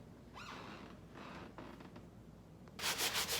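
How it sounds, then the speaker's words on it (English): Rough rubbing strokes of sanding on a surface, a few scratchy passes followed by a louder burst of rapid back-and-forth scraping near the end. "So I'm sanding to get some of the bumps and lumps out."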